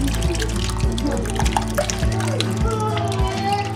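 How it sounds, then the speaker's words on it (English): Rendered lard poured and strained through cheesecloth, a steady liquid trickle and dribble running continuously with small drips, close up, with faint background voices. "now we're going to strain it through some cheesecloth"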